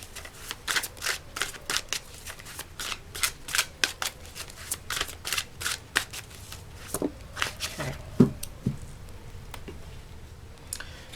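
A deck of colour oracle cards being shuffled by hand, giving repeated crisp riffling flutters in quick bursts, close and fairly loud, with no talking.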